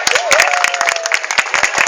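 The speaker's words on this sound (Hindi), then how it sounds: "इन सबके लिए प्लीज एक बार जोरदार तालियां।" An audience at a home gathering welcomes a team from Lucknow with loud applause and some crowd noise. The clapping is close and dense, with a faint tonal whine running underneath.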